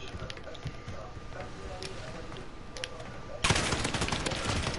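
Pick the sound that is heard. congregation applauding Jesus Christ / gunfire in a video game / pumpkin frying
gunfire in a video game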